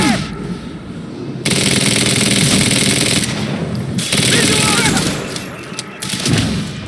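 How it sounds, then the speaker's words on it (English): Sustained loud automatic gunfire roars from a firefight in the video game Quantum Break, dense and continuous for several seconds, briefly dropping off before resuming, with a voice faintly under it. "Open fire!"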